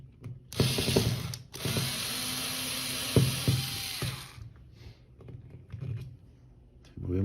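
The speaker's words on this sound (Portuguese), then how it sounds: "Agora a gente vai remover esse parafuso." A screw being removed from a GBB airsoft pistol during repair, with a sharp ratcheting, clicking metallic run through the middle, handling clacks at either end, close and moderately loud, with no talking.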